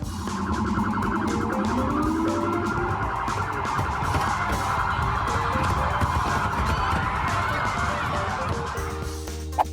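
Police car sirens wail continuously in a street protest scene, a loud, sustained warbling tone layered with car-alarm-like whoops and crowd noise throughout.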